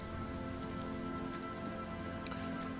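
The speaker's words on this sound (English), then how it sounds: "getting late, and it's raining." Rain in the Disco Elysium video game, a dense steady patter of drops on a surface, even and continuous, fairly faint, with no talking.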